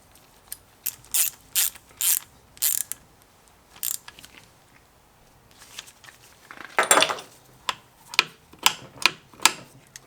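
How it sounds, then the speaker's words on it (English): Torque wrench ratcheting on bolts during a Toyota Land Cruiser front axle rebuild: bursts of close, crisp metallic clicks in short runs, a pause, then a denser cluster of ratchet clicks and separate single clicks toward the end. "these are torqued down to about 9 inch-pounds."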